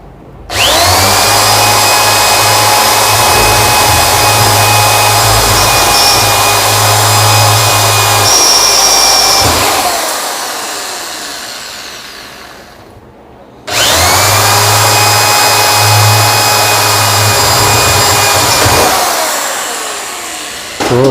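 Electric drill boring holes into a metal cabinet for rivets: two long, loud, steady whines of about ten seconds each, separated by a brief pause as the motor spins down.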